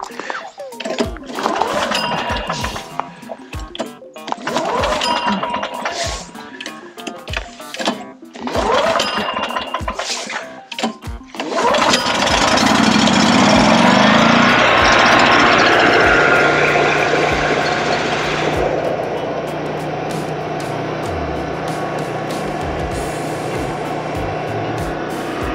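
A Honda portable generator is pulled several times with the recoil starter, then its engine catches and runs loudly before settling to a steady idle hum.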